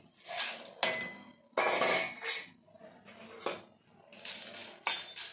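Roasted lentils and cumin poured out of a metal pan onto a plate, with loud rattling bursts of scattering grains and metallic scrapes and clinks, coming in several separate pours with short pauses between.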